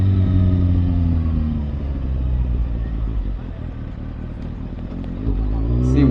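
A Kawasaki ZX6R motorcycle rides at night with a loud exhaust, giving a close, deep engine rumble and clatter that eases off mid-ride, then swells again as the throttle opens near the end.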